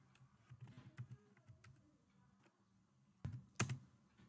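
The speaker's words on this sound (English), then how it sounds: "we'll click on the address column and we'll type the addresses" Addresses being typed on a computer keyboard, quiet scattered keystrokes over a soft low rumble, ending with a couple of sharper, louder key clicks.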